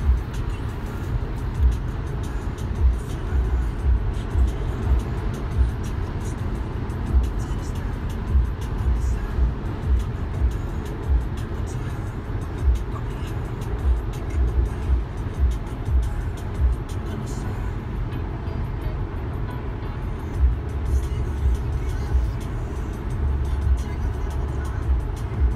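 A Tesla car drives along a road from Denmark toward Germany, a loud, steady rumble of tyre and road noise filling the cabin throughout with no break.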